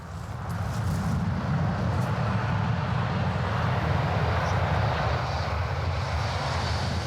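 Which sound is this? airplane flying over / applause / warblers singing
airplane flying over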